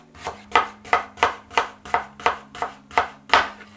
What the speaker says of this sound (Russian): Лук я нарезаю ножом на четвертинки.